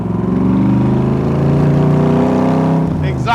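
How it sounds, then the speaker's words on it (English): A 1965 Shelby Cobra Backdraft sports car engine rumbles loudly up close, its exhaust note holding steady and then revving briefly near the end. "Exhaust sounds even better."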